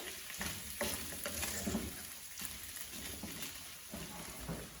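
Carrots sizzle quietly in a frying pan while a utensil stirs them, soft scraping and shuffling strokes repeating over a steady low hiss.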